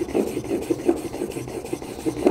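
A chisel is sharpened on an inexpensive water stone, giving close, rhythmic gritty rasping strokes in a steady back-and-forth pattern with no talking.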